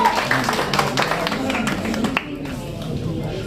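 An audience at a mushaira at the ICS Hotel in Okhla, New Delhi, claps for the poet Imran Faiz. The clapping is dense and steady at first, then thins out and fades, with a voice beneath it.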